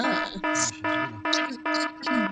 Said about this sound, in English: that was alarms going off